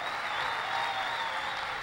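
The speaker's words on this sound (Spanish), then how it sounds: "dele ese aplauso fuerte a Dios" Church congregation applauding during a Sunday service, a dense, even roar of many hands clapping together with a faint tone running through it, loud and unbroken.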